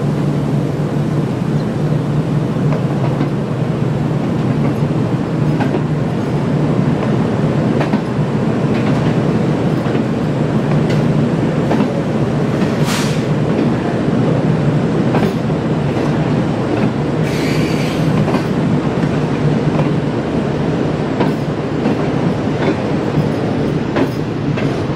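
The Karachi Express rolls into Lahore railway station with a continuous, loud rumble and rhythmic clickety-clack of wheels over the rails, joined by a couple of brief high squeals midway.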